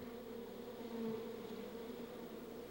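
A single bee buzzes steadily and faintly nearby, held for bee venom therapy, with a continuous droning hum throughout.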